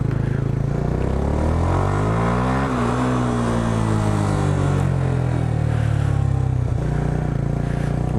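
A loud motorcycle engine idles and revs up and down close by, its throaty exhaust rising in pitch then settling back.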